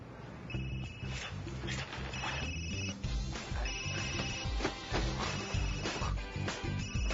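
A mobile phone rings steadily on and off at moderate volume for several seconds, its tones riding over a busy, music-like background with no voices.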